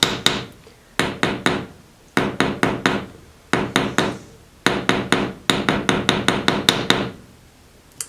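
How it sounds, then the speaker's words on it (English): A rawhide mallet taps a jewelry ring flat on a hard surface, near and crisp, in quick bursts of three to six knocks separated by short pauses. "I'm gonna pop that ring flat and use my rawhide mallet to tap it out."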